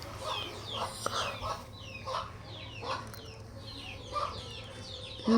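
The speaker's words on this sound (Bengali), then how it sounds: "মুরগির ডাক একটু শোনো, আয় আয় ডাক।" Chickens cluck in a series of short, repeated calls a few seconds apart, moderately close but fairly quiet over a low steady background hum.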